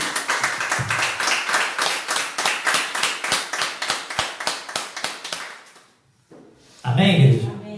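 A church congregation claps in unison during a live worship service, loud rhythmic claps at a steady beat for about six seconds, then a short pause before a voice and other noise rise at the end.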